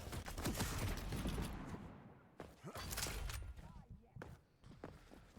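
Heavy automatic gunfire in the Quake arena during a QuakeCon 2019 match, dense bursts with loud impacts and explosions, mixed with other weapon noise and footsteps.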